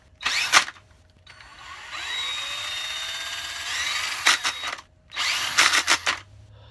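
A power drill fitted with a hole saw cutter whines loudly in short bursts, then one longer steady run, then several more stuttering bursts, all up close with no talking.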